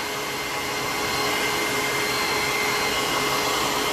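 A hair dryer blows steadily up close on acrylic paint, a loud continuous whoosh with a faint constant whine, unbroken for the whole stretch.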